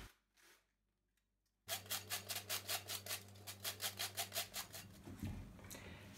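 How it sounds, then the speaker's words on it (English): Cauliflower being rubbed across the big holes of a grater, a close, rapid run of about a dozen rhythmic rasping strokes after a brief quiet start, with a low hum underneath. "Then I grate the cauliflower."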